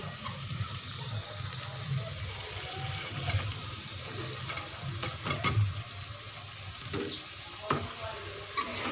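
Green beans fry with chicken in a pan, a steady close sizzle broken by repeated scraping and clattering stirs, with a watery bubbling texture throughout.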